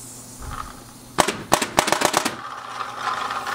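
An Adrenaline Angel LCD paintball marker fires a quick rapid string of about eight sharp pops over a steady hiss of air, close and loud, with no talking.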